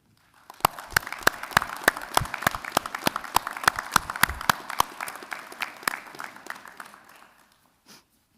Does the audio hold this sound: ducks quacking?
no